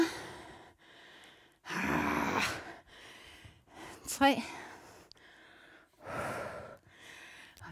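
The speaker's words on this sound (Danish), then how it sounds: "Jeg er jævnt på pusten nu, som du nok kan høre." Heavy, ragged breathing after squats during a leg workout, with loud gasping exhales and panting between short bursts of counting speech.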